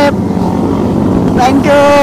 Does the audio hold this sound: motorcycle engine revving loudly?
yes